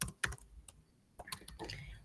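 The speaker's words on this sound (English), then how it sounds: "Sorry, I don't know why I'm typing so." Computer keyboard keys tapped in short irregular bursts during a Linux command-line session, close and fairly quiet, with clustered clicks and brief pauses between them.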